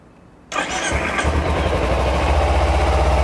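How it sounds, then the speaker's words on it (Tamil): A Bajaj Pulsar motorcycle engine cranks and catches after a brief quiet moment, then settles straight into a steady, close, rumbling idle with an even pulse. "ஸோ இப்போ வந்து நான் இன்ஜினை வந்து ஸ்டார்ட் பண்ணுறேன்."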